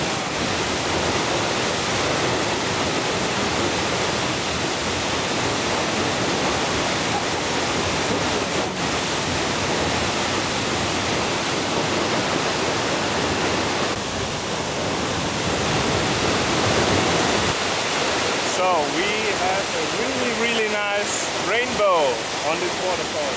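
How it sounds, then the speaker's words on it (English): A waterfall in the Malino region of Sulawesi, Indonesia roars as a dense, steady rush of falling water close by, continuous throughout, with brief voices and a few chirpy sounds near the end. "So this is a very nice waterfall in the Malino region, yeah, and you can see its beauty."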